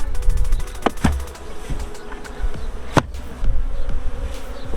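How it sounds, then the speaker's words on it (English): A swarm of honeybees in a hive with a laying worker hums loudly and continuously up close, with a few sharp knocks and clunks breaking through the buzzing. "We still have a bunch of bees in here."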